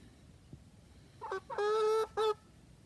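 A small grey hen on a homestead gives a few short, close clucking calls in quick succession, the longest in the middle, with a quiet background otherwise.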